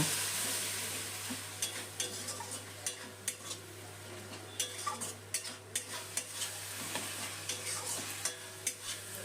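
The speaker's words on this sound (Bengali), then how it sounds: "মশলা বাটার জলটা দেওয়ার পর আরেকটু কষিয়ে নেব" Ground spice paste thinned with water is stir-fried in a pan for goat-fat ghugni, with a steady sizzle under repeated scraping stirring strokes close by, and no talk.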